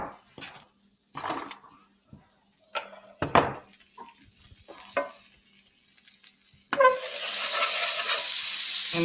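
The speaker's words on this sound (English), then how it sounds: "There's our skillet with our margarine." Margarine sizzles in a skillet with intermittent bursts of hiss and stirring clatter, then a loud, steady frying hiss takes over near the end.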